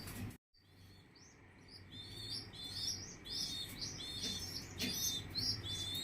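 Pigeons in a loft give repeated soft chirps and short calls over a low steady background hum, fairly close and quiet, with no talk.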